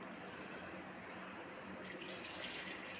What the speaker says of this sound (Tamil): கொஞ்சமாக தண்ணி ஊற்றிக்கிடுவோம்.